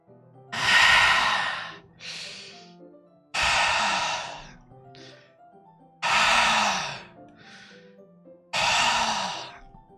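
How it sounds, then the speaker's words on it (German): In the game Doki Doki Literature Club Plus, someone breathes deeply, drawing air through the teeth: four heavy, hissing breaths, evenly spaced and close, with quiet pauses between them. "Jemand atmet tief ein, als würde er Luft durch die Zähne ziehen."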